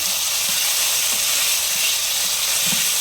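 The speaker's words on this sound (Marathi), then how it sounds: "आता यामध्ये मी ही शिजवलेली ज्वारी घालत आहे ही आपण चांगली परतून घेणार आहोत" Cooked sorghum sautéing in a pan with cumin and curry leaves makes a constant, loud hissing sizzle with faint low knocks now and then.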